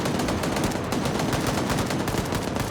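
Dense, continuous video-game gunfire, rapid automatic bursts mixed with single shots, loud and close throughout, with no talk over it.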